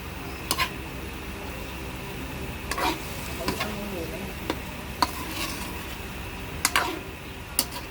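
Meat sautéing in a pan for yaki udon as seasoning powder goes in, a low steady sizzle broken by scattered sharp clicks and scrapes of a utensil stirring against the pan.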